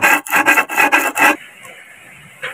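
Sandpaper rubbed by hand against a Toyota 1RZ engine valve, rasping in about six quick back-and-forth strokes, close and loud, then stopping into near silence with one faint scrape at the end.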